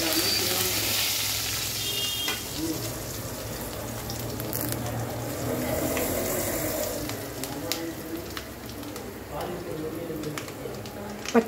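Curry leaves crackle and sizzle in hot oil for a lemon rice tempering, a continuous close frying hiss with scattered pops, heard under someone talking.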